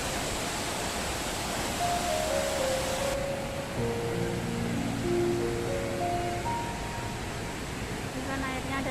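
A waterfall in a Hong Kong park, water dropping from above into a pool below, gives a steady, loud broadband rush throughout, with brief tonal sounds and background voices mixed in.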